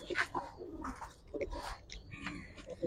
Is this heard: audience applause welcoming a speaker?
no